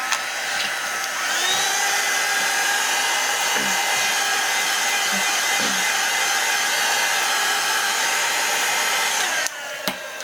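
A dryer blows steadily to dry paint on a mixed media canvas, a loud, even whooshing hum that runs for about nine seconds and then cuts off sharply.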